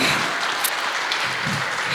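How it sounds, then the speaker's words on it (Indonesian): Sustained audience applause from a live contemporary vocal music performance, a dense steady wash of clapping filling the whole two seconds with no voices over it. "Kita beri tepuk tangan lagi yang meriah"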